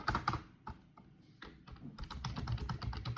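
Rapid clacking of keys on a computer keyboard, close and busy, with bursts of fast typing and a short pause midway.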